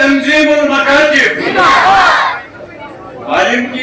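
A crowd at a religious education conference shouts slogans in unison in response to a leader's calls, loud and massed, with a pause and then another burst of shouting near the end.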